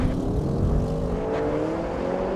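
A BMW M5 and a Mercedes-AMG E63 accelerate hard in a drag race, loud rising engine roar climbing steadily in pitch over a couple of seconds.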